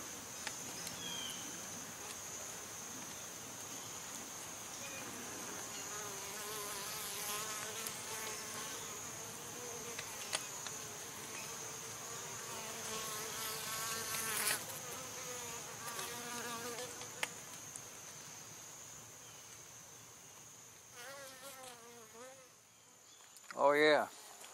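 Honey bees buzz around a nuc beehive with a screened bottom board, a constant faint high drone with individual bees whining past close by and a louder buzz near the end; no one speaks.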